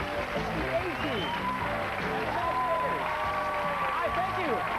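Studio audience at a 1988 television game show clapping and cheering for the host, steady applause filling the room while people talk over it.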